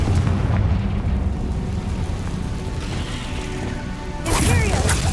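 A Confringo fire blast from Hogwarts Legacy hits with a heavy, rumbling boom and a sustained roar. A bright crackling burst follows near the end, loud and close.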